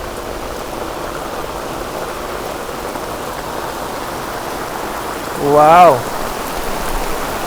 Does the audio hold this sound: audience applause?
no